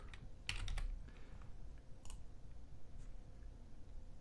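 Quick bursts of typing on a computer keyboard, soft clicks close by with a faint room hiss underneath.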